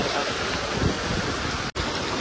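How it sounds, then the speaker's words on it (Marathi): A waterfall's dense rushing roar fills the whole moment, steady and close with no voices, briefly cut by a momentary dropout. "इकडे पण एक धबधबा आहे."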